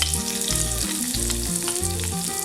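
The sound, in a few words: ginger sizzling in hot coconut oil in a pan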